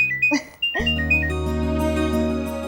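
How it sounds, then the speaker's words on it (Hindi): A mobile phone rings with a bright electronic melody, starting with short chirping notes before a sustained tonal ringtone pattern takes over, loud and close indoors, with no speech. "मम्मी का फोन है"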